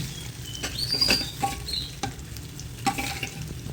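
Colocasia root pieces fry in oil while a ladle gently turns them, a soft, close sizzle with light patters, scrapes and small metallic clinks at irregular moments.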